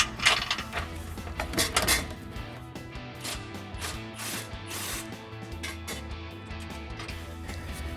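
Socket wrench ratcheting nuts and bolts on a Jeep Gladiator front bumper, quiet repeated clicking bursts with faint metallic knocks, close by and without talk.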